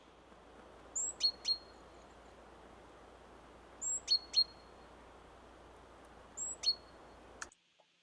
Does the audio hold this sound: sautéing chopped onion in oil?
no